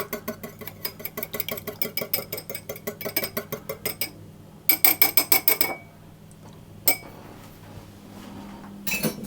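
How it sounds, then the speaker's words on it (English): An egg being broken up in a bowl for a lemon coffee cake batter, a steady run of quick metallic clinks from whisking, then a pause and a second faster flurry of taps, close and fairly quiet. "So I'm just going to break up my egg"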